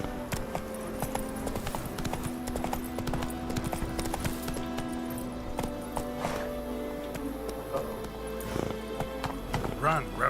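Roach, the horse in the video game The Witcher 3: Wild Hunt, gallops with a steady run of clopping hooves, close and constant, while someone speaks over the hoofbeats.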